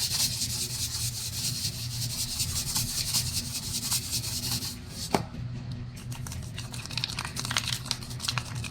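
Hands mixing curry powder, minced onion, salt and pepper into raw chicken wings for frying, giving a steady close-up rubbing and squelching with soft crinkles, continuous and fairly quiet.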